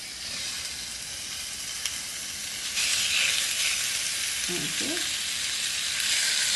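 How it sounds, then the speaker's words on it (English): Food frying in a hot pan gives a steady, bright sizzle and hiss that swells louder partway through, while a voice briefly speaks underneath. "And that sizzle is a good sign"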